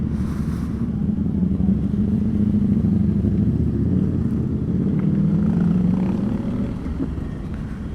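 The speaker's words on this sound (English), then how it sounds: "super loud bikes." Loud Ducati motorcycles riding through city streets, a steady deep engine roar that swells and holds for several seconds, close and dominant.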